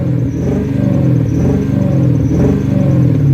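A 2002 Lexus SC430 engine with a misfire, running as if on about five cylinders, gives a steady, loud, uneven low rumble with a faintly lumpy idle pulse throughout.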